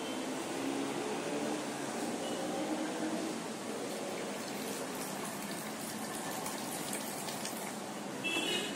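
A mixture of tulsi juice and jaggery is poured steadily into a fruit fly trap for guava trees, producing a continuous gushing, filling sound that stays fairly even throughout.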